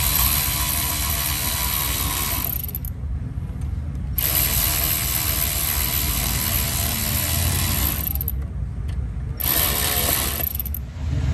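A ratchet tightening the clamps of a frame mounting kit: long, steady runs of fast, dense clicking, close and loud, broken by two short pauses, with no voices.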